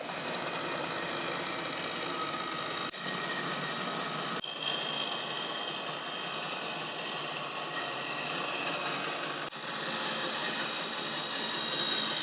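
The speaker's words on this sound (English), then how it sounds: "I like to clean up with a hand sander, the RO 150 from Festool" A Festool RO 150 hand sander running on a wooden table piece, a loud, steady whirring drone with brief cuts and restarts, close and alone without talk.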